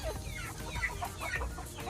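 Backyard breeding gamefowl cluck softly in a few brief calls, faint and fairly distant over low background noise.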